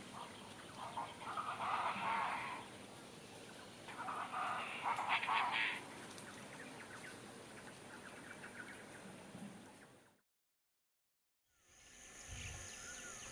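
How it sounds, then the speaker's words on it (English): Chaco chachalacas calling around a lodge in the Pantanal, loud raucous bursts in a few long bouts over steady insect and ambient hum, broken by a short silent gap before the background returns. "there were plenty of chacho chacalacas, an ubiquitous bird around the Pantanal's Pousadas"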